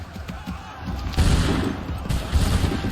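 A musket volley in Assassin's Creed III comes as a dense, rolling burst of many overlapping shots that builds suddenly and rumbles on, with battlefield noise around it.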